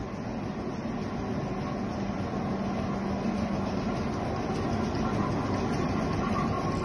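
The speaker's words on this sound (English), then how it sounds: "This clip now is of the diesel engine that runs a 50-inch screw." A 295 horsepower Ruston Hornsby four-cylinder horizontal diesel engine drives a 50-inch screw pump at a drainage pumping station, giving a steady, dense, continuous mechanical rumble that stays even throughout.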